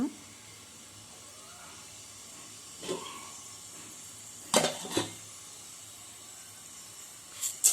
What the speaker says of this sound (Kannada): ಸಾಸಿವೆಯನ್ನು ಹಾಕಿ ಜೀರಿಗೆಯನ್ನು ಸೇರಿಸಿ ಸಾಸಿವೆ ಜೀರಿಗೆ ಚಟಪಟ ಅಂತ ಸುಲಿದ ಮೇಲೆ